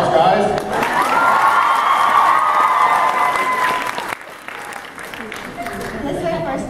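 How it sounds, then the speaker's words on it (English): A convention panel audience applauds and cheers in a loud, dense wash of clapping with some whoops, easing off partway through as murmuring voices continue. "Round of applause, guys."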